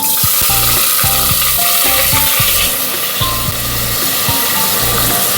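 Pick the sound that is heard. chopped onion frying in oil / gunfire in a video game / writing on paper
chopped onion frying in oil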